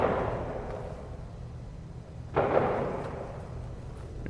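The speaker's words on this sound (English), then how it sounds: "There's some fireworks displays for you." Fireworks in the space exploration game No Man's Sky: a few muffled booming bursts, one near the start and a sharper one midway, each fading out, with no talking over them.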